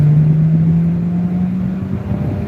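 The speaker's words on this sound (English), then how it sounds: "Yep, there's the bottom of second gear." A 2017 Ford Focus pulls in second gear, its engine drone rising slowly and steadily under road and wind rumble, heard loud from inside the cabin with no talking.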